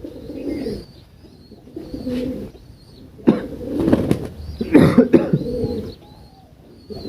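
Pigeons cooing in repeated low, throaty bursts close by, with a brief wing flap and rustling between the coos, no talking.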